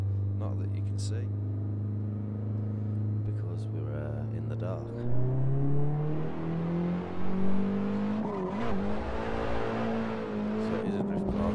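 A Nissan 180SX drift car in the racing game Assetto Corsa revs with a steadily climbing engine note and brief tire squeal as it works through mountain bends, loud and continuous throughout.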